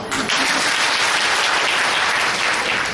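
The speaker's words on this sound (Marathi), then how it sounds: "टाळ्या वाजूया" A workshop audience breaks into brief, dense applause, many hands clapping steadily for a few seconds with no voices.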